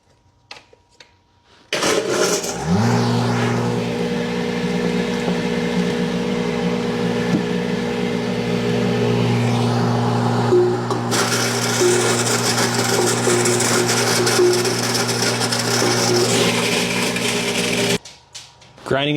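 An electric grinder runs steadily and loud, mashing apples into pulp for cider, with a strong motor drone that starts abruptly, holds for about fifteen seconds, grows harsher midway as fruit feeds in, then cuts off.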